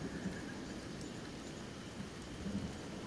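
Acid rain in the video game Kenshi, a steady hiss of rainfall with low rumbling underneath, continuous and even throughout.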